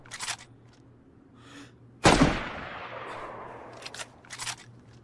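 A single loud gunshot in the video game DayZ rings out and decays into a long echo, with faint distant shots and a low steady hum before and after.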